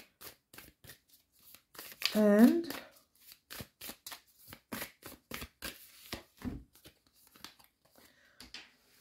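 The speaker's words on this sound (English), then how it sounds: "you see me shuffle, eh?" Tarot cards being shuffled by hand in a series of quick, crisp riffling flicks and slaps, close and distinct, with a brief voice mixed in.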